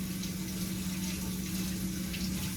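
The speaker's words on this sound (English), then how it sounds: "Rinse my hands off" Water runs steadily from a kitchen tap while hands are rinsed, a continuous close splashing hiss with no voices.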